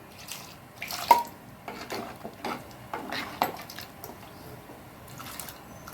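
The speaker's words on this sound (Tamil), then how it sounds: "கொஞ்சம் தண்ணியை ஊற்றிடலாம்" Water poured into a pot of drumstick leaf sambar in a home kitchen, heard as faint, uneven splashing gurgles in short bursts with quiet gaps between them.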